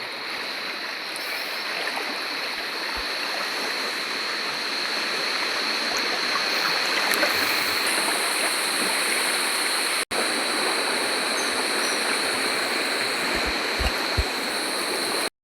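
River water rushes steadily at a spot where plastic-jar traps are being set to catch crabs, a loud, continuous broadband flow close by with a few faint knocks and one sharp click.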